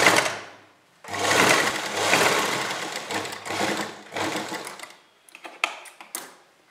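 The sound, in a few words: sewing machine stitching a fabric strip on a kurta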